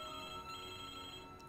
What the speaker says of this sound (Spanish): Perdone, el teléfono...